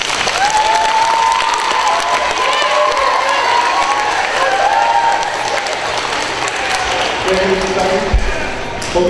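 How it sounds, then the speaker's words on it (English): Audience applause and cheering fill an elementary school string concert hall, loud and steady for about nine seconds, with shouts and crowd voices mixed in and a few sharper knocks near the end. "Let's give him a big round of applause."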